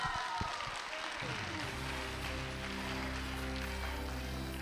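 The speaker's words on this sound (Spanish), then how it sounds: "Un fuerte aplauso." Audience applause at a school singing festival, clapping breaking out after an announcer speaks, then giving way to a sustained musical tone, moderately faint.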